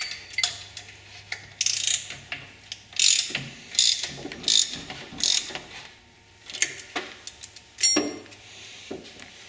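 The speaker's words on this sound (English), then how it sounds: "Now finish tightening the other bolt." A ratchet tightening an alternator bolt on a custom classic car, several short bursts of rapid clicking separated by pauses, close and fairly loud, with a faint low hum underneath.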